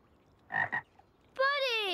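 A cartoon frog gives a single drawn-out croak that rises and holds steady, loud and close, after a brief burst of other sound.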